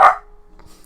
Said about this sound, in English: sorry about that, that was the dog